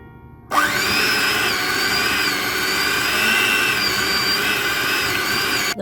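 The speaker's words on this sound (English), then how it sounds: "Yeah, I'm gonna try the whisk." An electric whisk beats icing for a four-layer rainbow cake, switching on abruptly into a loud, steady high-pitched motor whine that holds evenly to the end.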